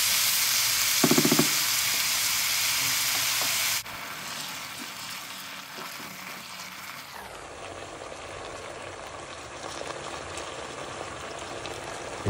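Pork pieces browning in a pan for a fricassee give a steady, close frying sizzle and hiss that runs unbroken for the whole stretch, shifting in tone twice as the cooking goes on, with no talking.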